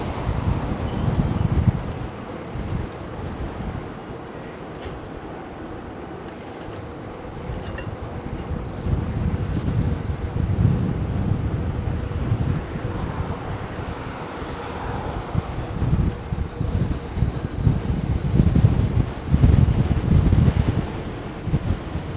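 Steady gusting wind roars and buffets the microphone in low rumbling surges during a bicycle ride toward Miami Beach, louder toward the end, with no voices.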